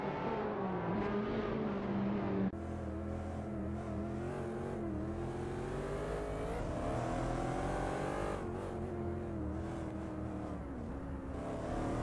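AI-driven hypercars race around the Tor Poznan circuit in a racing video game, engines droning and revving steadily at high pitch, one shifting tone into another for the whole stretch with no voices.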